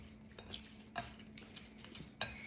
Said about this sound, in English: I'm gonna go ahead and mix this up